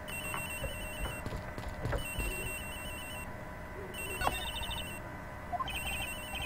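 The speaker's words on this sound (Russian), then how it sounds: "Телефон агента Хиггса. Он звонит где-то здесь, сэр." Agent Higgs's phone in Edgeworth Investigations rings in repeated electronic bursts, a bright warbling tone that starts and stops in regular pulses over a low background hum, with no voices.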